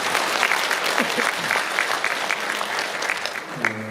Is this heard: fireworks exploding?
no